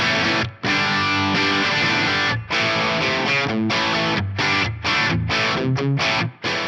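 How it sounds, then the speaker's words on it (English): A heavily distorted electric guitar, magnetic pickup through a Hotone Ampero II Stage Marshall 800 model, cab IR and club reverb, plays chunky chords and riffs, loud and saturated with a roomy reverb tail, brief gaps between phrases. "using the magnetic pickup output, it's the Marshall 800, my free cab IR, and the club reverb at stock settings"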